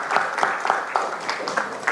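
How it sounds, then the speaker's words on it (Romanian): Audience applause at a political party conference, a brief run of rhythmic, fairly loud claps with distinct beats, no talk over it. "Aplauze!"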